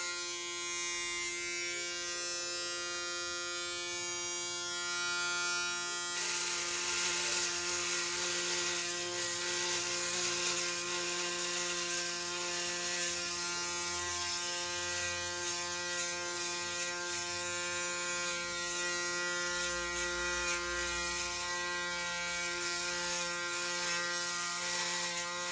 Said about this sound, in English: here goes the live shave